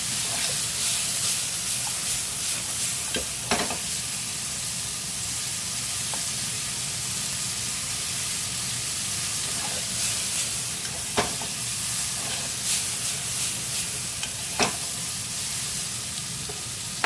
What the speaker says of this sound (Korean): 수분만 살짝 날릴 정도로 네, 볶아주시면 돼요